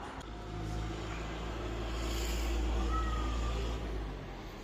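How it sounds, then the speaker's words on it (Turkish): Steady low traffic rumble drifts in through open doors of a room where a CFMOTO CF550 ATV battery, a Bosch M4F54, is being filled with acid; a continuous, fairly distant wash of passing vehicles with no voices. "Trafik sesi için kusura bakmayın."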